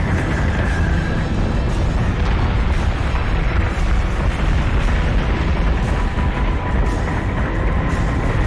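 Warship cannon fire and explosions in the Battlestar Galactica Deadlock space combat game, a loud, continuous dense roar of booms and blasts with no break.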